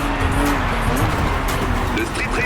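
Car brakes and tires squeal in a street racing video game, a continuous loud engine and skid sound filling the whole short stretch with game noise and voices mixed in.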